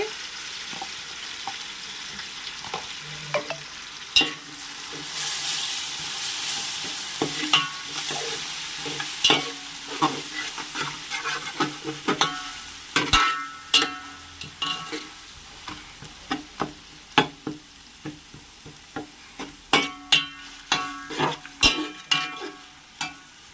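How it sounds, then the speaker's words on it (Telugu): Ginger-garlic paste fries in a pan for coconut rice, a loud steady sizzle broken by frequent sharp scraping and clinking strokes of a spoon, growing busier toward the end, with no voices. "ఇప్పుడు దీనిలోనే 2 స్పూన్లు అయితే అల్లం వెల్లుల్లిపాయ పేస్ట్ వేసుకొని అయితే వేసుకుంటున్నానండి"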